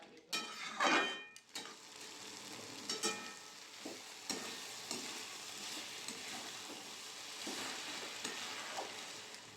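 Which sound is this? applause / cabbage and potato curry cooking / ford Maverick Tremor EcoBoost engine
cabbage and potato curry cooking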